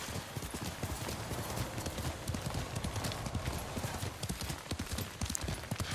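Steady horse hooves clip-clop in Ghost of Tsushima, a brisk, continuous rhythm close up throughout, with faint game ambience and an occasional whinny-like undertone.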